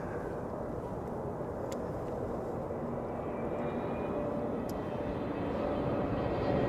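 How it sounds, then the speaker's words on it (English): A Sky Express Airbus A320neo arriving at Amsterdam Schiphol Airport on a frosty day, a steady broad engine roar that holds constant and swells slightly toward the end, heard from a distance without talk. "Sky Express, A320neo."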